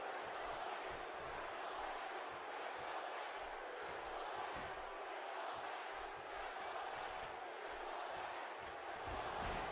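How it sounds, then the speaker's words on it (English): A steady, dense roar of an arena crowd in the WWE 2K16 wrestling game, constant and fairly distant, with a faint rumble beneath and no distinct cheers standing out. "The crowd is buzzing."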